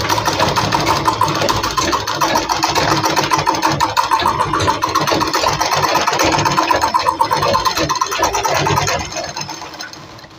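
An electric sewing machine runs steadily, stitching the waistband of palazzo pants with a dense rapid mechanical whir that holds loud and close for about nine seconds before slowing and fading out.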